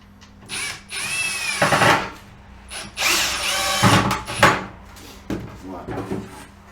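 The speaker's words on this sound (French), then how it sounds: "Et maintenant il n'y a plus qu'à visser." A power screwdriver drives screws into a wooden beehive box for a Dadant six-frame nuc, in several short whirring bursts close by, separated by brief pauses and clicks.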